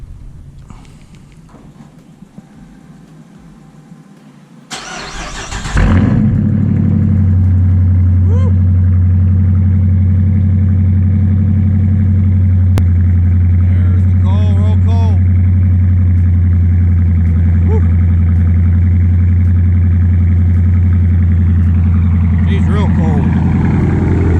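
A Dodge Challenger R/T engine cranks and fires up, then settles into a loud, deep, steady idle that rumbles on for about twenty seconds, with a voice speaking faintly over it.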